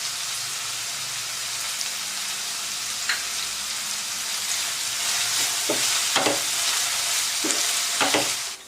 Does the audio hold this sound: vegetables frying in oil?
yes